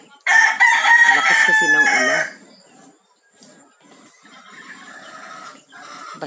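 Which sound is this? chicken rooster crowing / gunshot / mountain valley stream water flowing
chicken rooster crowing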